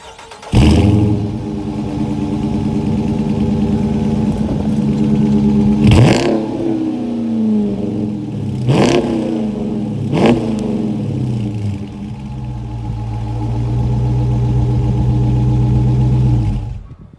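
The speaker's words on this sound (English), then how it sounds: "let's get that exhaust clip going" A 2017 Dodge Charger Daytona idles with a deep exhaust rumble, then revs hard three times in quick succession and settles back into a steady, loud idle. No voices are heard.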